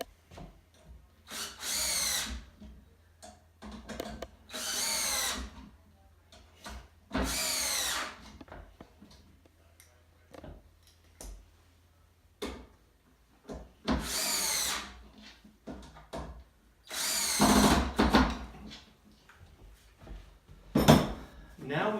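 A power drill drives screws into the tail end of a Bullet Tools Magnum 26-inch shear during assembly, in about six separate loud, close whirring bursts with quiet gaps between them.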